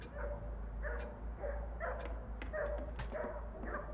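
A video-game dog barks steadily in short, evenly spaced yips over a low, constant hum, sounding somewhat distant and muffled, as a storm approaches.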